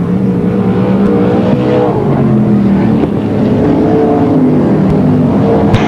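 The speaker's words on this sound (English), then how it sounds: "We're looking for the lead at least as they head down through turns 3 and 4, and Melinda Moore gets down." A pack of sprint cars roars around the dirt oval at Parramatta City Raceway in a loud, continuous engine drone, with pitch shifting as the cars sweep through the turns.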